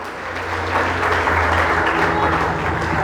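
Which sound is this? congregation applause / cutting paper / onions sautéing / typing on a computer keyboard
congregation applause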